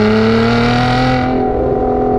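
A supercharged, Lotus-tuned Toyota Camry engine with a GRP exhaust holds a loud, steady high-rpm drone with strong tonal harmonics, the pitch easing slightly near the end. No one speaks.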